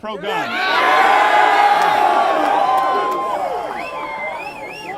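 A crowd at a campus debate breaks into loud cheering with whoops and shouts, swelling quickly and holding strong before easing slightly, with some voices rising above the roar.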